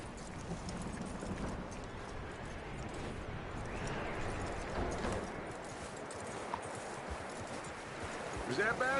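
Horse hooves clip-clop in a steady walking rhythm in the video game Red Dead Redemption 2, moderately close and consistent throughout, with a low ambient background beneath.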